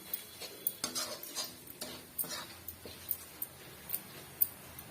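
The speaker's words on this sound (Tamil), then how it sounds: "அதை வந்து இதோட சேர்த்து ஒன்றை வந்து மிக்ஸ் பண்ணிடலாம்" A spoon stirs ground spice powder into a curry leaf pickle in a pan, producing a steady series of soft, close scrapes and light clinks against the metal.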